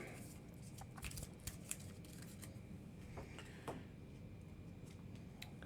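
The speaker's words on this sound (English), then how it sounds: "Let's give this a quick shuffle." A deck of path cards for the Earthborne Rangers tabletop game being shuffled, with soft, quiet riffling and a few sharp card snaps over a steady low background hum.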